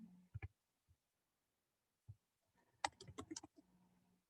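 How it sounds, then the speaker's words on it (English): Faint, scattered keyboard clicks, then a quick flurry of keystrokes, with pauses of near silence between them. "typing too fast for my own good here"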